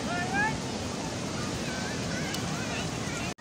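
Sea waves washing up on a shore, a steady broad rush of surf with wind buffeting the microphone, continuous and fairly loud, with people talking faintly in the background.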